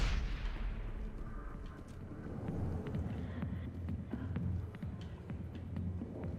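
Grenade blasts in the Mass Effect video game: a heavy explosion opens with a loud low boom that decays into rumbling, followed by scattered gunfire cracks and a continuous battle din, with no talking.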